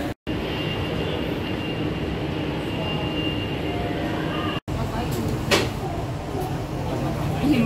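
Jakarta MRT subway train at an underground station, a steady loud rumble and hum of the moving carriage with a brief break, then continued rolling noise and a short sharp clack, heard from inside.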